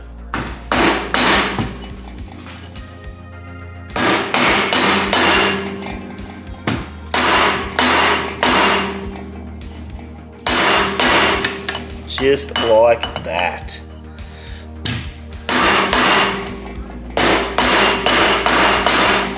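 A hammer repeatedly strikes a machined alloy sleeve to drive it onto the main shaft of a Harley-Davidson four-speed gearbox. Loud, ringing metallic blows come in rapid bursts with short pauses between them, and someone says a few words.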